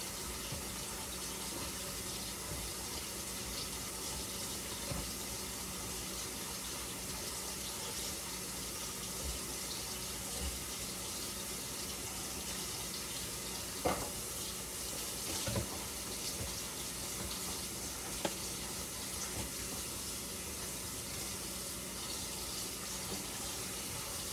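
Tap water runs continuously over cooked pasta in a kitchen sink to cool it, a steady moderate splashing stream with a few faint clinks, heard alone with no talk.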